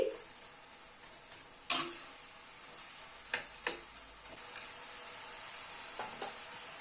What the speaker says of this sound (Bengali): ঢাকাটা খুললাম টমেটোগুলো একটু ভেঙে ভেঙে দিচ্ছি